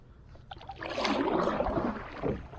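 A canoe or kayak paddle sweeps through the water just after shoving off, one close swishing, gurgling stroke that swells and fades with a smaller splash at the end.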